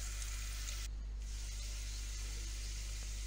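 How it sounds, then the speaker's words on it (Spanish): Sliced garlic and pine nuts toasting in a pan give a steady, close hiss of sizzling with a brief dip partway through, and nothing else stands out. "Echamos unos ajos partidos en láminas que no se nos quemen y a continuación los piñones, que se tuesten un poquito."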